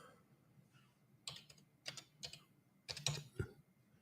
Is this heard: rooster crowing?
no